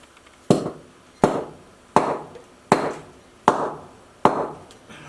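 Six evenly spaced, sharp thuds as a plaster mold is banged against the floor, each impact loud and close with a short ringing decay, about one strike every three-quarters of a second.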